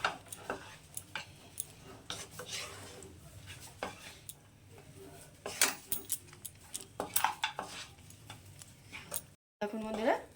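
Chowmein tossed with fried egg in a wok in Kolkata style, with repeated metallic clinks and scrapes of a spatula against the pan in an uneven rhythm, close by, alongside speech.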